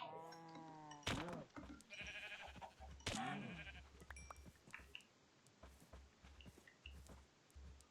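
Blocky Minecraft sheep bleat several times in a modded farming game, quavering calls at about one and three seconds, followed by softer clicks and footsteps.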